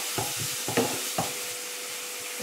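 Onions sautéing in a pan for Tamil mushroom masala, with a few soft spoon stirs and scrapes over a faint low sizzle, fairly quiet and close.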